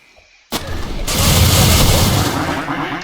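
A gunshot in Weird Gun Game hits with a sudden loud blast, then swells into a sustained roaring burst of firing noise lasting a couple of seconds.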